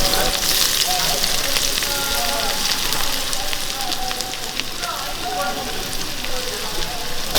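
Chopped onions sizzling in hot ghee for egg biryani, a dense, constant crackling hiss with faint pops and light utensil sounds.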